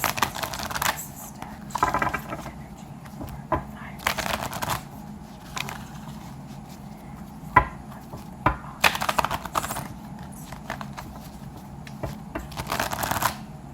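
Repeated bursts of tarot cards being riffled and shuffled, crisp flutters coming in clusters with pauses between, close by, with faint talk now and then.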